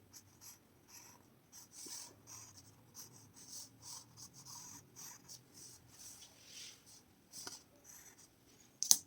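A pencil scratches and rubs across paper in short repeated strokes while drawing the lines of a one-point perspective room. The strokes are quiet and close, with brief pauses between them.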